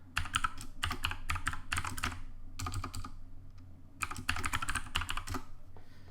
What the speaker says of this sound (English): I have a noisy keyboard. I love noisy keyboards.